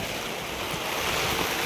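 Rain pours at a house construction site, a dense, loud hiss that holds steady and close throughout with no talk.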